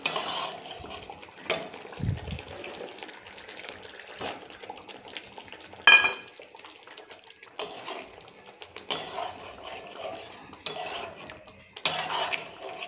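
Spice paste being fried and stirred in a pan for paneer curry, giving intermittent scraping and clinking of a utensil against the pan over a low sizzle, with a louder knock now and then and no talk.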